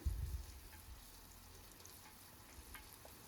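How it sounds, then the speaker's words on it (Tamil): Onions frying in hot oil in a pan, a steady soft sizzle with a brief low thump at the start. "அந்த ஆயில் சூடானதும் ஆனியன் போட்டாச்சு ஆனியன் வந்து டிரான்ஸ்பரண்ட்டாக ஆக வரைக்கும் நல்லா ஃப்ரை பண்ணிக்கணும்"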